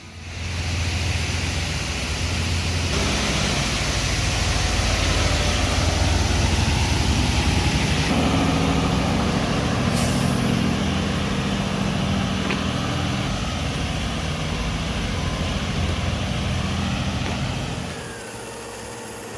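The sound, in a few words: Deutz-Fahr Agritron 7250 TTV tractor engine roaring, pulling truck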